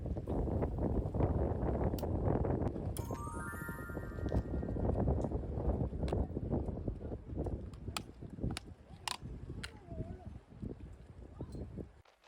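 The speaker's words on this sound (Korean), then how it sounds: "바람이 너무 많이 불었어요" Strong gusting wind buffets the microphone at a breakwater, a loud low rumbling roar with intermittent clicks and a brief rising tone.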